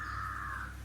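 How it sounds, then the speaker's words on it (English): A single crow gives a short, clear caw outdoors, moderately near, over a steady low background hum. "I want you to hear the birds cry"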